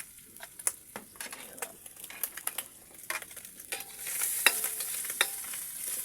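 Garlic frying in a pan for adobong sitaw, with scattered stirring clicks and scrapes that build into a steadier, louder sizzle partway through.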